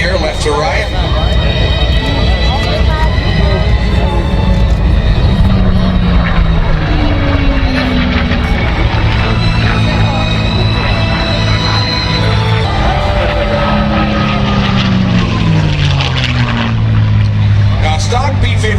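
A P-51 Mustang with a stock Merlin engine makes a loud, sustained propeller roar at an airshow, pitch sliding downward as it passes, heard under steady talk.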